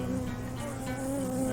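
Honeybees at rooftop hives above Fourvière make a steady, continuous droning buzz, close and even in level, with a faint wavering pitch and no voices.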